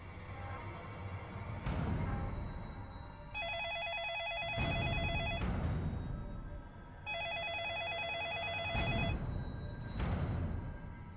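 A telephone rings in repeated trilling bursts, two long rings separated by pauses, fairly close and clear with no talking.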